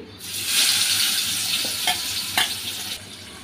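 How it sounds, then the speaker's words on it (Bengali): Chopped onions hit hot oil left from frying a fish head, and a loud sizzle swells and keeps going, with a few brisk stirring scrapes near the end. No one speaks. "ওই তেলে দিয়ে দেব পেঁয়াজ কুচি।"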